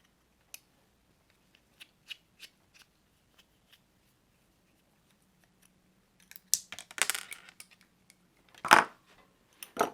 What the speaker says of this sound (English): remove these grub screws here to release the shafts